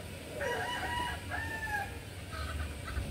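A breeding stag, a young gamecock, crows out one drawn-out cock-a-doodle-doo and then gives a shorter second call. It sounds fairly close, with low farmyard rumble and other clucking going on behind it.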